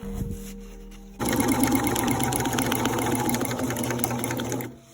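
A sewing machine stitches a Regency corset, starting abruptly after a quiet moment and running in a steady, close, rapid whir for several seconds before stopping.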